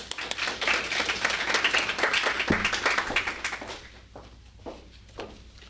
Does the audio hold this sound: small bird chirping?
no